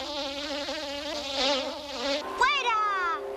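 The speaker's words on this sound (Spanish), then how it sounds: "¡Maldita mosca!" Close, loud buzzing of a fly in an animated scene, a whining drone that wavers in pitch and swoops near, heard on its own.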